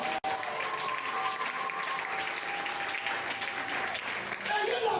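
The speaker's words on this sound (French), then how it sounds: "Est-ce que tu peux acclamer le Seigneur très fort?" A church congregation clapping loudly and continuously while acclaiming the Lord, with voices shouting and cheering mixed into the sustained applause throughout.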